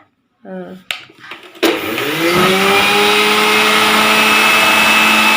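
After a few brief knocks and clatter, a kitchen mixer grinder starts up and then runs loud and steady with a high whine. Someone speaks briefly before it starts.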